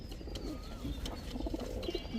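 Pigeons of a Kaldom pair for sale give soft, low cooing calls among other birds, a few brief coos close by over a steady background murmur, with no speech.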